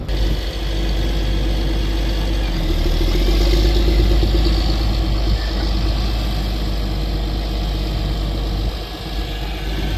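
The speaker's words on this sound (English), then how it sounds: "That 765 is a really good sized tractor for on there" A tracked 765 tractor engine idles with a steady low rumble and vibration, loud and close, holding even throughout.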